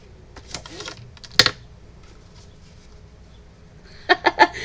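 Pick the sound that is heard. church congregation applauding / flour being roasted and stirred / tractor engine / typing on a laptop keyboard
typing on a laptop keyboard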